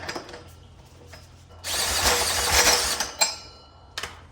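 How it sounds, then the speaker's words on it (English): A power drill whirs loudly for about a second and a half spinning over the engine of a Vietnam-era army generator, then cuts off, followed by a few sharp metallic clinks and knocks. "I'm gonna spin it with a drill for just a minute."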